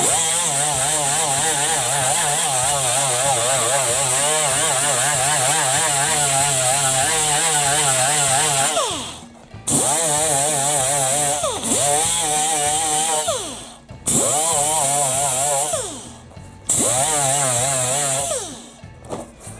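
A power tool grinds the surface of a rubber inner tube to rough it up and strip off a molded rib, running loud and steady with a few brief cutoffs and restarts near the end.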